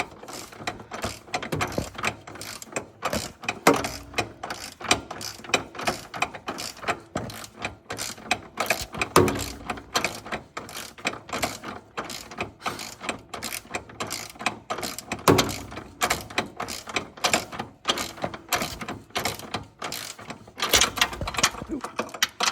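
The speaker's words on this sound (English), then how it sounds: "Let's see how this torque wrench works." A torque wrench ratchets on car motor mount bolts while polyurethane engine and transmission mounts are fitted, producing a rapid, continuous run of close metallic clicks in uneven bursts that lasts the whole stretch.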